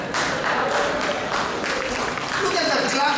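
A church congregation claps in dense, continuous applause that fills the room steadily for several seconds, with voices mixed into the crowd noise.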